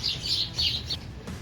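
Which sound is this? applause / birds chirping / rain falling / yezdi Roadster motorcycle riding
birds chirping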